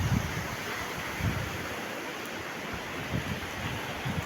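Ocean surf washes against a seaside breakwater under construction, a continuous rushing roar with periodic low surges, heavy wind buffeting the microphone throughout.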